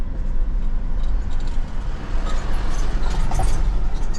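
A lorry rumbles loud and steady behind a 2025 BYD Sealion 7 with its window open, a continuous low engine and road roar with no talk.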